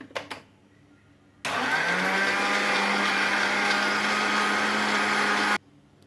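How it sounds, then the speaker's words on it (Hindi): A blender starts abruptly after a few light knocks, whirring loudly and steadily for about four seconds with a churning motor roar as it blends watermelon for juice, then cuts off. "अब हम इसको ब्लेंड करेंगे"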